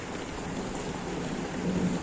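First rain of the season falls in a village in Devgad, a steady, moderately loud hiss of drops with a low rumble underneath and no voices.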